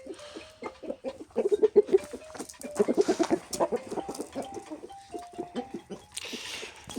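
A spotted rooster of a breed that grows to around 4.5 kilos clucks on a farm, giving a quick series of close, rhythmic clucks that come in bursts, then trail off into quieter calls.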